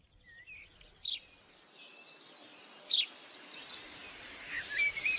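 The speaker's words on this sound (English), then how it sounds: "Hundreds of birds were zooming in and out of the hedge, singing and squawking" Many birds in a hedge give faint, scattered chirps and tweets at a distance, with a few sharper calls standing out above a soft, steady background.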